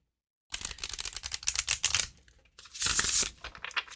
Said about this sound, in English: let's do another riffle, and then we will cut